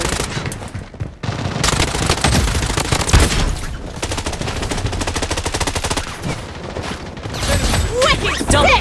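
An FN F2000 rifle fires in long, dense automatic bursts in the shooter game Blood Strike, loud and continuous, with battle clatter around it and a couple of brief pauses.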